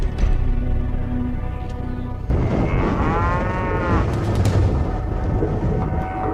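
Cattle in a remote cow pasture moo in long low calls, a couple of moos standing out clearly over a rumbling, windy outdoor background.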